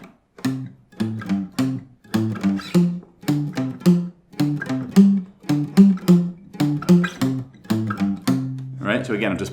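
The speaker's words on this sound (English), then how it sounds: "here's that muted sound" Electric or acoustic guitar riff from a song played with the palm resting on the strings, giving short, dull, choppy plucked notes in a steady rhythm, close and moderately loud with no talking.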